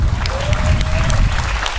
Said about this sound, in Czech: A nyní potlesk pro mého přítele.